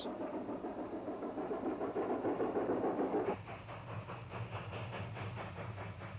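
Narrow gauge steam train running over Marshall Pass in Colorado, a continuous hiss and rumble of the engine and cars, with the texture shifting midway to a rhythmic chuffing and rattling, moderately distant.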